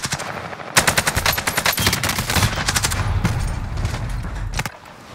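Sustained automatic machine gun fire in the Call of Duty Warzone video game, loud and close, with rapid repeated bursts running almost the whole time before cutting off near the end.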